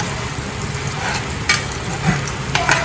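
Onion frying and being stirred in a pan, a steady close sizzle with occasional scrapes and clicks, and faint background noise from nearby work.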